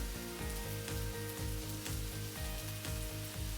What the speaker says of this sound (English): You can fry it until the onions are crispy onion rings almost.